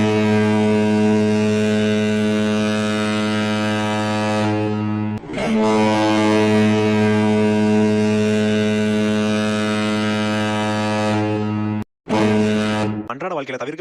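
A ship's deep, loud horn sounds a pilot-calling signal: two long, droning blasts, then a short one at the end, rich and steady with only brief gaps between.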